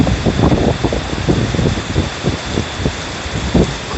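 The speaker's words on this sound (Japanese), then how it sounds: "ものすごいな、この雨は。" A sudden torrential downpour during an August storm outside a hall, loud and roaring without letup, with surging gusts of wind and rain drumming close by, and no talking.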